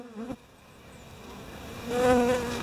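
A honeybee swarm mobbing a European hornet, with a dense, continuous buzzing hum that swells louder toward the end; no talking.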